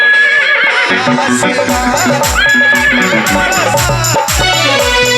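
A horse whinnies in several loud, rising and falling neighs over a backing of rhythmic devotional music, close and prominent throughout.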